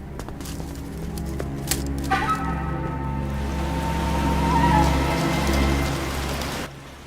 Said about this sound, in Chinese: 这天下雨了